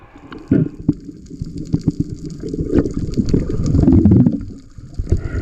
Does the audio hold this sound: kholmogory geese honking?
no